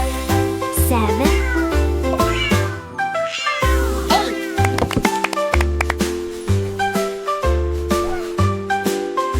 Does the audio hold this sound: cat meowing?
yes